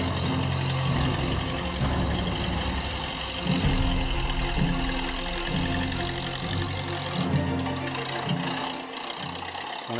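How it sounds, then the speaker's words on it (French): A Citroën Scarabée d'Or half-track replica engine runs steadily, a loud, continuous mechanical rumble with knocking pulses and a busy background din. "Et puis vient enfin le démarrage et les premiers tours de roue."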